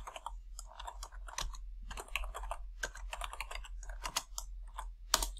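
Fingers typing steadily on a computer keyboard, a close, quiet stream of rapid key clicks in uneven bursts over a low steady hum.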